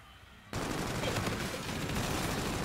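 Video game gunfire during a competitive hardpoint match. A loud, sustained burst of rapid automatic fire breaks in abruptly after a brief quiet lead-in and continues without pause.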